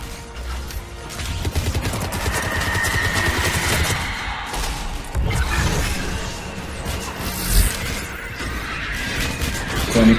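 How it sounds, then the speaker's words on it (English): Grenade blast in the Mass Effect video game, a dense crashing burst of explosion and rapid gunfire-like cracks that stays loud and busy throughout, with sharp impacts near the middle and end. "Grenade into that."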